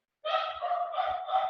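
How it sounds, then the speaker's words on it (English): A dog yelps and barks at close range in a short burst of high, strained calls at home, with no talk over it. "I'm sorry if you hear my dog."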